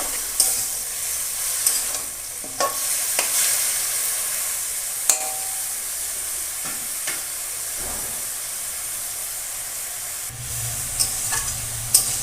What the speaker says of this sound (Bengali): ভাজা হয়ে গেছে, এবার জল দিয়ে দেবো।